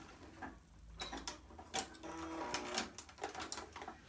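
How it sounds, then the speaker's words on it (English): A sewing machine runs a triple stitch across elastic on a knit scuba pencil skirt, close and fairly quiet, its needle ticking in quick mechanical bursts with brief pauses. "I'm just going to sew across the elastic."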